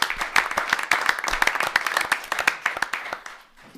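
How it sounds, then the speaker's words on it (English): An audience applauds at a city council meeting in Waterville, Ohio, honoring a Bowling Green State University graduate; dense, steady clapping from a room of people lasts nearly four seconds before thinning out at the end. "I think he deserves a round of applause for graduating from Bowling Green State University."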